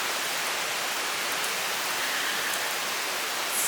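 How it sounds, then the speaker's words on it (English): Steady, dense rain falls continuously in Portland, Jamaica, a close, even hiss of drops with no talking. "I know it's raining"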